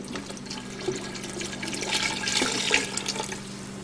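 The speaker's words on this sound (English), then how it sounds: "And add a little more water to it." Water poured from a tap into a chicken soup pot on the stove, a steady close splashing stream rising in intensity over a low hum, no talking.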